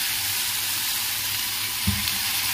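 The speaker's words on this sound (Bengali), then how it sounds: "এবার এই অল্প তেলেই ক্যাপসিকামটা দিয়ে দেবো, আর কয়েকটা কাঁচা লঙ্কা দিয়ে দিয়েছি। একটু ভাজা ভাজা হবে।" Capsicum and green chillies fry in a little oil in a pan, a steady close sizzle with a brief stirring clatter near the end and no voices.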